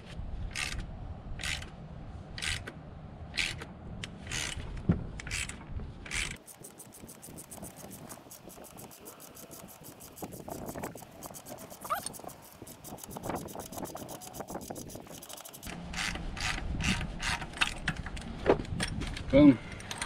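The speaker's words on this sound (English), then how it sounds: "Take our 3/4 inch socket, or ratchet I should say." A 3/4 inch socket ratchet tightening a bolt on a Corvette engine, its rapid clicking pawl ratcheting in bursts between scraping metal handling, with someone talking intermittently at the start and end.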